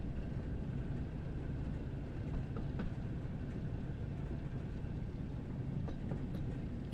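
Devious Diesel, a diesel locomotive in a video game, drives forwards in a steady low rumble with faint rhythmic rail clicks, even and continuous throughout.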